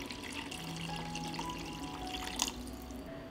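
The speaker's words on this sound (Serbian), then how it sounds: "I nalit ću sa vodom da prelije sve sastojke." Water pours steadily into a cooking pot over vegetables and spices, a soft, continuous splashing gurgle with one brief louder splash near the end.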